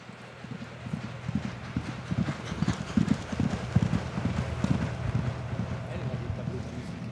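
Hooves of several horses walking, close and steady uneven clip-clops, each horse keeping its own stride, with wind noise and a voice speaking over them at times.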